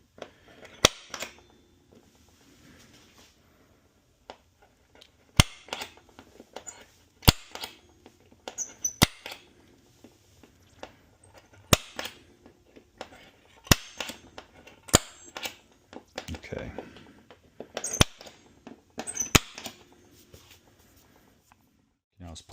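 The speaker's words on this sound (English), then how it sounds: "We're going to identify the center and then punch." A spring-loaded center punch strikes a pinball playfield while a Pinball 2.0 kit is fitted, giving sharp, isolated snapping cracks spread over about twenty seconds, with quieter handling noise and low voices between them.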